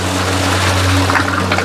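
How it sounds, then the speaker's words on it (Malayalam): A single-phase V-Guard cutter-type submersible sewage pump draws leafy waste water out of a drum, giving a loud, steady motor hum with a rushing watery wash layered over it. "പമ്പ് ചെയ്ത് വരുന്നുണ്ട്."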